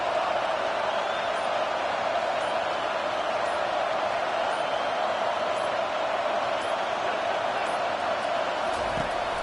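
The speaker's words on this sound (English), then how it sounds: "The roar of the crowd trying to fuel this defense to keep them pinned in their own end." Steady, loud crowd roar fills a football stadium as fans try to spur the defense, a continuous wash of noise with no break and no distinct voices standing out.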